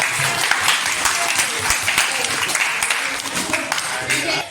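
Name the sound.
applause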